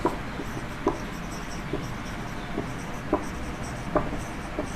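Chalk or marker writing on a board during a physics class on electric current, a steady scratchy rub with soft periodic taps, close and fairly quiet, no talking.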